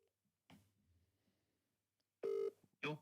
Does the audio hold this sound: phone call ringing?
yes